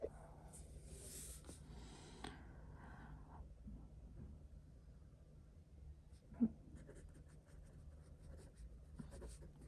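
Pen scratching on paper during a law lesson, a faint continuous scribbling with small strokes and one sharp tap, close but quiet, with no talk over it.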